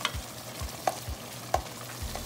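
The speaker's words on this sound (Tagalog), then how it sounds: "Pinapakulo natin siya para lalong lumabas yung pagmamantika ng karne" Bicol Express, pork simmering in coconut milk, bubbles and sputters in the pot, with a few sharper pops and low rhythmic stirring or bubbling thumps through a soft continuous sizzle.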